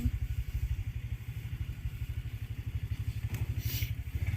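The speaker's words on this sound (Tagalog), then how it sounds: "Sumayad tuloy ang aming motor." A motorcycle engine putters in a fast, steady rhythm, with a brief scraping clatter near the end as the heavily loaded bike's underside scrapes the ground.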